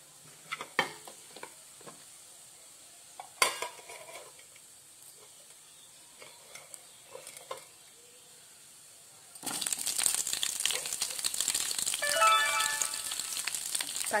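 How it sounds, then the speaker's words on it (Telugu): Mustard seeds and cumin hit hot oil in a home kitchen, starting with a few scattered clicks and scrapes before breaking into a loud, steady crackling sizzle that fills the second half. "ఆయిల్ హీట్ అయిన తర్వాత దీంట్లో ఆవాలు,"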